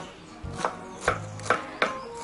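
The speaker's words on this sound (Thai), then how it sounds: "หั่นผักที่จะใส่ก่อน" A kitchen knife chops vegetables on a board for an Isan spicy shrimp salad, four distinct, evenly spaced cuts heard up close with no talk.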